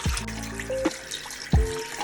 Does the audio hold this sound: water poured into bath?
yes